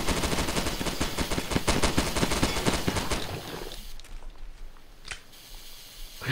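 Rapid automatic gunfire in the video game Primal Fears, dense repeating shots for about four seconds, then silence with one last single shot.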